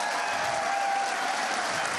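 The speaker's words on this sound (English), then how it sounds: "Many of the nearly 100 officers from police departments across the region applauded and cheered Trump's remarks." Nearly 100 police officers applaud and cheer at a speech by Trump, a steady dense wash of clapping from a crowd throughout.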